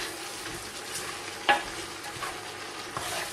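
Beef mince sauce is stirred in a hot pan, a close, steady sizzle with scraping strokes and one sharp clink of the utensil against the pan partway through.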